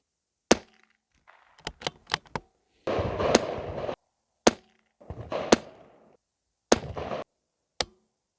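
Handgun shots fired during target practice, each one a sharp loud crack at close range with uneven spacing, several followed by short rattling or echoing bursts.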